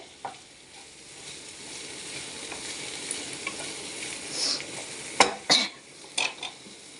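Okra stir-frying in a pan hisses softly while a spatula scrapes and clinks against the pan in a few sharp, close knocks toward the end.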